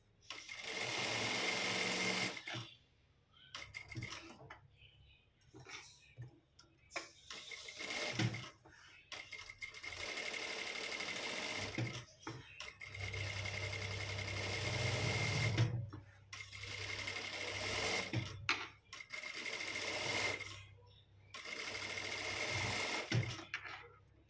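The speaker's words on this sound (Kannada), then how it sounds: "ಈಗ ಫುಲ್ಲು ಅದು ಹೇಗಿದೆ ಹಾಗೆ ಹೊಲಿಬೇಕು" A sewing machine stitches fabric in repeated bursts of rapid whirring, each run lasting a few seconds and separated by short pauses, fairly close and clear, with no talk between the runs.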